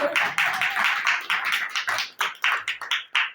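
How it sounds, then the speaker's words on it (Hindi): A congregation claps during a Hindi sermon, a steady run of about a dozen close, crisp claps that loosen into a slightly uneven rhythm toward the end. "ताली बजाओ ना, कंजूसी क्यों करते हो यार"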